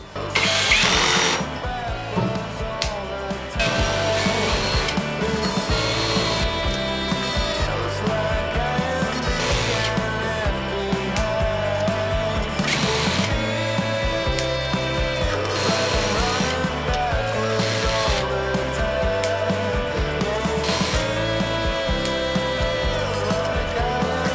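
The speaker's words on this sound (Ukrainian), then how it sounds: "Настільки чутлива тут тріщотка." A Tekhmann cordless drill's clutch ratchets continuously at close range, a loud buzzing clatter with a pulsing mechanical rhythm that runs the whole time, with no talk over it.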